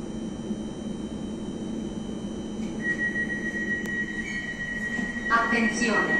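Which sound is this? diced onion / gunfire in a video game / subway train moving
subway train moving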